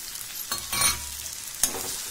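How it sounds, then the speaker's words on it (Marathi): Masala okra frying in a pan is stirred from the bottom up: continuous sizzle with a few scraping spoon strokes and a sharp tap on the pan, close and clear. "खालून वर भाजी करायची आणि हलवून द्यायची."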